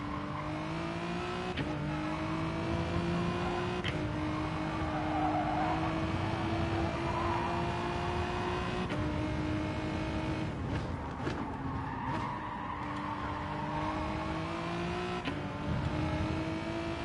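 Race car engine revving hard in a GT endurance race at Sardegna in Gran Turismo Sport, a steady high whine that rises and drops sharply at each gear change. Tyre noise and a pass by other cars are heard, with no talk.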